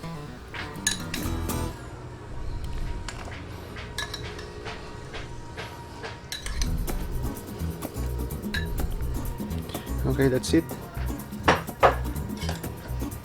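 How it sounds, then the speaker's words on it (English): Spoon stirring muscovado sugar into 1.5 cups of boiling water, with repeated metallic clinks and scrapes against a pot or bowl, steady and close, and a brief voice near the end. "So just stir and let this sugar dissolve into the water."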